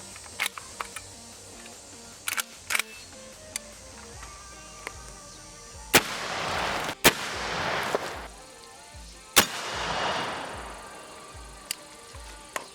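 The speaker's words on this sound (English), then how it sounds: "Your Federal 1 ounce slug, this is 1610 feet per second." A magazine-fed 12 gauge shotgun fires Federal 1 ounce slugs at a range, with several loud, sharp reports spaced seconds apart, each with a rumbling tail, among smaller clicks and handling noises.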